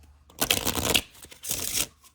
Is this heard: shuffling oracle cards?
yes